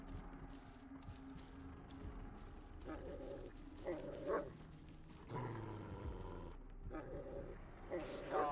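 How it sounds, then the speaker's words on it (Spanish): A dog barking and growling in the Blair Witch video game, bursts of barks and snarls recurring through the clip alongside game ambience, with someone talking intermittently. "El perro es el que ladra, el que gruñe"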